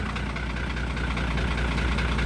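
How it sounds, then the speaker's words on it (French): A tractor engine idles steadily with a low, even rumble that continues close and unbroken throughout, and no one speaks. "écoutez le moteur"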